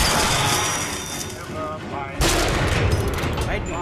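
Gunfire from a sniper rifle and other weapons in the video game Bioshock Infinite, a dense loud barrage of shots and blasts that swells sharply partway through, with a player's voice over it.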